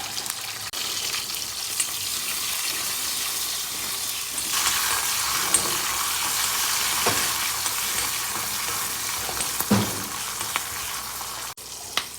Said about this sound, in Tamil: எண்ணெய் காய வச்சுட்டு அதில் இந்த வெங்காயத்தையும் இதையும் நம்ம வதக்கலாம்